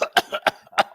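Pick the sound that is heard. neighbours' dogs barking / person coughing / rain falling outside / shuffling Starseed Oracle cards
person coughing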